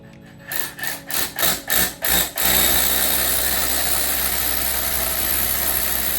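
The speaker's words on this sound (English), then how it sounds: "drill a hole through." Six short rhythmic bursts of a power drill boring into material, then a sustained high-pitched whir as the drill runs continuously.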